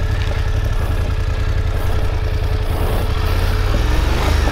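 A motorcycle engine ticks over at idle as the bike is maneuvered across loose rocks, an even, low chugging rumble that stays near and constant throughout.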